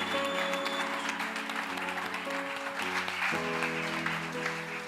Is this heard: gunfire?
no